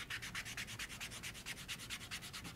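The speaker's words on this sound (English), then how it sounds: "clean it by sanding it down on that pad" A charcoal drawing stick is rubbed back and forth on a sandpaper pad, giving a close, rhythmic scratchy sanding sound of about a dozen quick, even strokes with no talking.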